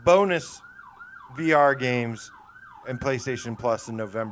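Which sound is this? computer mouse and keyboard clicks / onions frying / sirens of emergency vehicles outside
sirens of emergency vehicles outside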